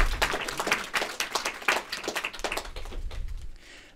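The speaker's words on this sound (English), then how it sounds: "Round of applause, guys." An audience at a film premiere gives a round of applause, a burst of clapping that builds and then fades out over a few seconds, with faint voices mixed in.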